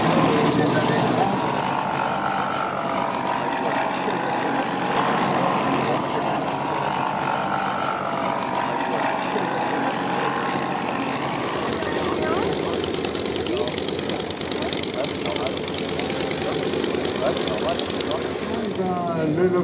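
A 1930s Lockheed Electra vintage twin-engine airplane flies at the La Ferté-Alais air show, its steady engine drone running throughout beneath someone speaking.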